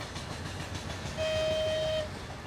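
A train on the Gazprom railway across the Siberian tundra rumbles past, a steady low roar of wheels joined midway by a sustained whistle tone of about one second.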